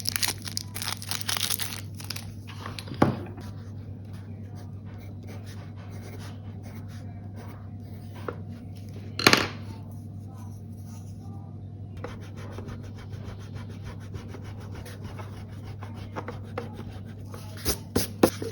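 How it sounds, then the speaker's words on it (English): A rubber eraser scrubs across paper in soft, scratchy strokes, with a couple of sharper taps and rustles against a steady low hum, close and fairly quiet. "I could give this rubber a quick test."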